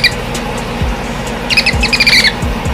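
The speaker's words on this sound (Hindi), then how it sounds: "लेकिन जब ये बेबी हेजहॉग्स अपनी आवाज निकालते हैं तो कुछ बेबी पिग्स जैसे ही सुनाई देते हैं" A baby hedgehog gives a few high, squeaky calls like a piglet, in short repeated chirps over a steady low background hum.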